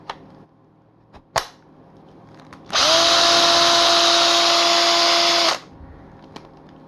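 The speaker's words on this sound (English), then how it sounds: "Let's see if the Makita battery will work on this chainsaw." A battery chainsaw running on a Makita battery gives a loud, steady whine for about three seconds, then cuts off. A few sharp clicks and taps come before it and one follows after.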